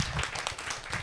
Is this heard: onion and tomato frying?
no